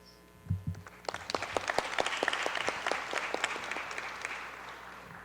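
A crowd at a city community forum with the mayor and a councilor breaks into applause: a few scattered claps grow into a full, steady round that slowly thins near the end.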